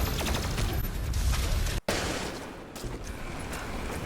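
Heavy weapon fire from the BFG 10,000 in a Doom-style video game, a dense, loud roaring barrage with a brief dropout before the blast continues at a slightly lower level.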